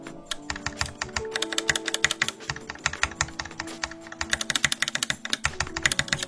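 Fast clacky typing on a mechanical keyboard with lubed switches, dense rapid keystrokes with a rattly edge, close and continuous with no voices.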